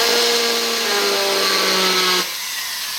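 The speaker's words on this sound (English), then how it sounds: "Get your RPM up real high when you're using a small burr." A small high-RPM rotary drill with a ball burr cuts a divot in an earring piece, a loud steady whine that stops abruptly near the end, leaving a lower hum.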